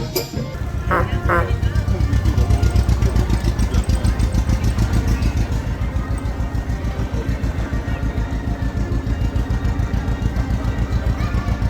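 An old fire engine's engine chugs steadily with a rapid, regular pulsing rhythm on Main Street at Disneyland, running close by throughout, with a few faint background sounds.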